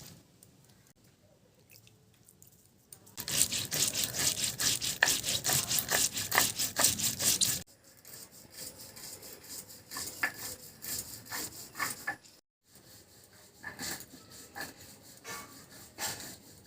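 White and black mustard seeds ground with two green chilies, a loud rough grinding and rubbing burst of several seconds, then softer intermittent scraping and gritty strokes with short pauses.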